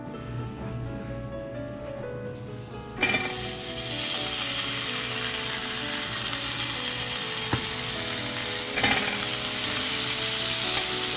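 Slices of pork belly (samgyeopsal) sizzle and crackle steadily in a hot pan at close range, and the frying swells louder partway through.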